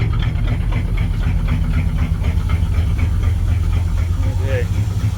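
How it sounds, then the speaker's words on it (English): A 1983 Chevy square body truck idles steadily in a shop, its low, even engine rumble holding constant and close with a faint vibration throughout. "I've always loved the sound of this truck."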